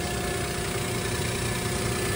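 A vehicle engine idles smoothly and steadily after being washed, a constant low rumble with no gaps or misfires, heard alone and close.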